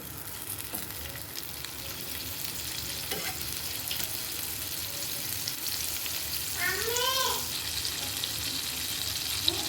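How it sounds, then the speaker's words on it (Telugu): Butter melting and sizzling in a pan before bread kunafa is roasted, a steady close frying hiss with a brief scrape partway through. "ఈ బటర్ అనేది మెల్ట్ అయిన తర్వాత మనం ఇప్పుడు ఈ కునాఫాని బాగా రోస్ట్ చేయాలి."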